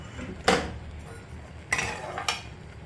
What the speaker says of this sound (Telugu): మనం కొంచెం కొంచెంగా ఆయిల్ గరిటతో మిక్స్ చేసుకుంటూ ఉండాలి